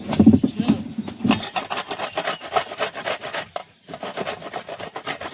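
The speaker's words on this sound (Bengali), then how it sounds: "আমি এইভাবে গ্রেট করে নেব।" Food grated by hand for pakoras in a village kitchen, with rapid rhythmic rasping strokes up close, briefly pausing, while a voice speaks over the start.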